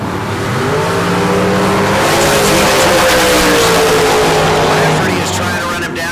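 Bracket-racing drag cars blast down the strip, a loud, dense, sustained engine roar that swells through the middle and fades toward the end, with an announcer talking over it.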